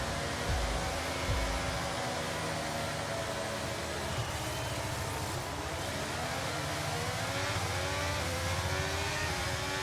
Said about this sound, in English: Don't like the sound of this engine.